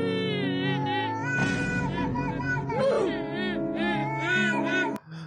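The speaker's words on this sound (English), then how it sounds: "once again, the cat is crying to the other cat" Two cats meow and cry back and forth in long, wavering, drawn-out calls. The calls run nearly without pause over a steady tonal background, with voices talking at the same time.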